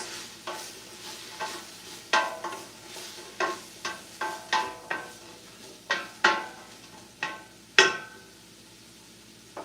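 Onions frying in a pan, a soft steady sizzle broken by about a dozen sharp scrapes and clinks of a utensil stirring against the pan at irregular intervals, with no one talking.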